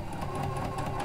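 Janome sewing machine stitching a lap seam with a 9mm lap-seam foot, a brief, quiet, steady mechanical whir with a faint rhythmic needle patter.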